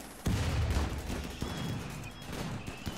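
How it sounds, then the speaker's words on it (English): Uranium slug gun turrets fire in the video game Rimworld, a heavy burst of booming shots that starts abruptly and rolls on as a loud, dense barrage. "Let me guess, gun turret. The uranium slug turrets."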